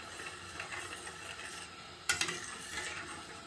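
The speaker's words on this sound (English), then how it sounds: "Give it a stir." Pasta is stirred in a cooking pot, giving a quiet, soft swishing that carries throughout, with a brief clatter of the spoon against the pot midway. Nearby, and no one talks.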